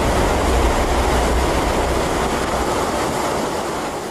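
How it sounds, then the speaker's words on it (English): A volcanic lahar mudflow of debris and water churning downstream near Pinatubo, a loud, dense, continuous roar like heavy surf or a passing train, steady and unbroken throughout with no voices. "The powerful mass churns downstream, destroying anything and anyone unlucky enough to be caught in their path."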